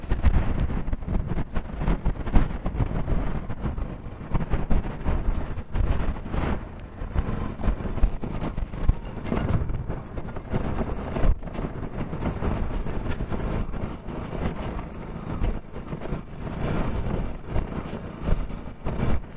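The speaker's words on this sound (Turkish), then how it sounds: "Çok da güzel esinti var böyle." Gusty wind buffets the microphone on a mountain summit at Yellice Dağı in Kütahya, a loud, continuous rumbling roar with uneven surges and no talk.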